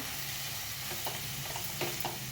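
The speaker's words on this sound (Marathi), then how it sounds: "आणि धनेपूड जिरेपूड आणि किचन किंग मसाला हे पण आपण घालून घेऊया त्याला पण असं परतून घेऊया थोडं" Coriander, cumin powder and kitchen king masala sautéing in a pan, giving a steady low sizzle with a few soft stirring scrapes, faint and without talk.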